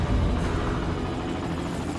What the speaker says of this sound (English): Helicopter. Come on in, buddy.